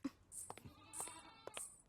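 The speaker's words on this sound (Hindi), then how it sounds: "वो देखो, छोटी भेड़ है वो" Small sheep giving three short, high bleats spaced about half a second apart, close and fairly clear over quiet background.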